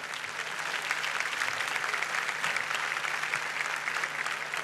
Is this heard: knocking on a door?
no